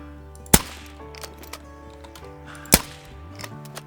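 Two crisp, sharp shots from a Vasquez Cyclone air rifle in a Call of the Wild hunt, spaced about two seconds apart, over soft ambient music and a few faint clicks.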